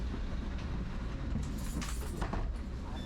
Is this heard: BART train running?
yes